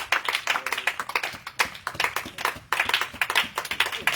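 A church congregation at a prayer and healing night in Grand-Bassam claps to acclaim the Lord: loud, rapid, slightly uneven applause from many hands, with brief dips in the clapping.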